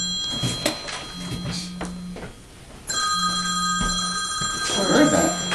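A telephone rings in a room during a Torah study session, its electronic ring repeating in steady bursts and growing fuller toward the end, with little talk around it.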